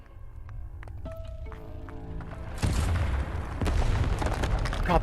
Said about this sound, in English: These bloody cannons!